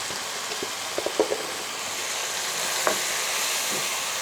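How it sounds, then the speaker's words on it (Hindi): Gobi chicken masala with garam masala frying in a pan, a steady soft sizzle throughout with a few light stirring clicks and scrapes early on and one sharper clink near the end, no talking. "और इसको अच्छे से हम भून लेते हैं।"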